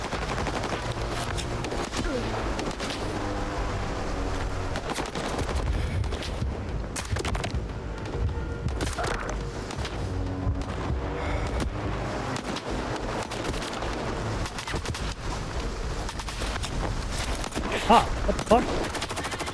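Gunfire in the video game S.T.A.L.K.E.R. 2: Heart of Chornobyl crackles in dense, sustained bursts through a busy combat mix, with a voice briefly cutting in near the end.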